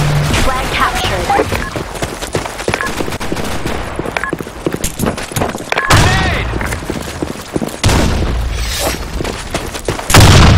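Video game combat in a capture-the-flag match with loud, dense gunfire and heavy booming blasts, including a grenade explosion, all close and continuous, with voices calling out over the noise.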